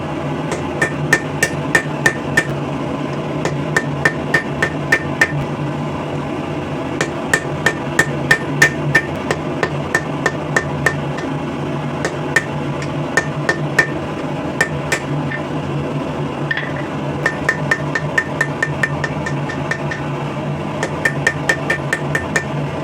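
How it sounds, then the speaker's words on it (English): A blacksmith hammers the corners of a scrap steel bar down at the edge of an anvil, sharp ringing strikes coming in quick bursts and pauses across the whole stretch, close and loud. "we're just going to come kind of to the edge of the anvil here and forge each one of these corners back down into the mud"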